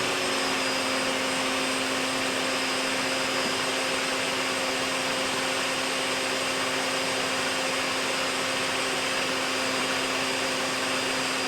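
A table saw runs continuously with a steady, loud, even whine and whir, no cutting or pauses, holding constant from start to finish.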